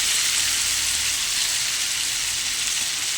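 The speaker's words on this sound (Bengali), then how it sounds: "এবার ভেজে রাখা আলু আর কপি দিয়ে দেবো" Fried potatoes and cauliflower go into a hot pan of sizzling spiced masala, producing a loud, dense, continuous hiss of frying that holds steady throughout without any talk.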